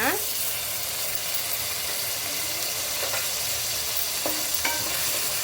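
Ginger garlic paste frying in a pan for coconut milk rice, with a loud, steady sizzle and hiss. Occasional scraping stir strokes cut through it.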